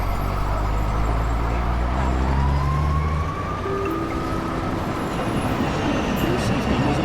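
A New York City subway 1 train rumbles loudly into 207 Street Station, with a low droning engine hum, rising metallic squeal and growing clatter, under an automated platform announcement.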